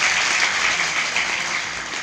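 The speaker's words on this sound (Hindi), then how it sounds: "एक बार जोरदार तालियां बजाकर इनका स्वागत करें।" Audience applause at a Malvi-language Hindi comedy poetry gathering in Madhya Pradesh welcomes a humor poet, a dense, steady wash of clapping that stays loud and unbroken for about two seconds, with no voices over it.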